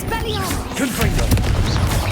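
A Confringo fire-blast spell bursts in a Hogwarts Legacy battle, a sharp explosive crack amid dense game effects, whooshes and clatter, loud and close with several quick impacts layered together.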